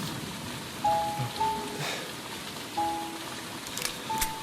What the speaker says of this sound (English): There's too much rain.